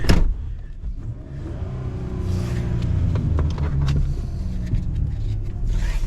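A Dodge Caravan with a cooling fan that is not cutting in drives along, its engine rumbling and revving up steadily, close and fairly loud, with no talking.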